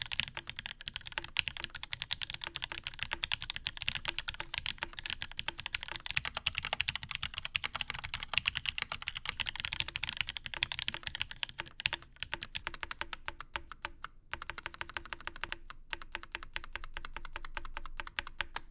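Steady, fast mechanical keyboard typing on lubed Gateron Ink V2 switches, soft, muted clacks, continuous and close, no speech.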